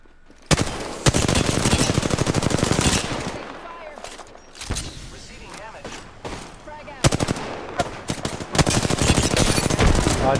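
Sustained automatic gunfire in the video game Apex Legends, with long rattling bursts and short gaps between them, loud and close.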